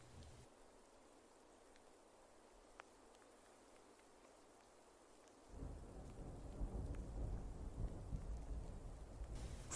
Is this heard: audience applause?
no